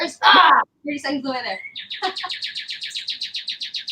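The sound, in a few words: birds chirping loudly outdoors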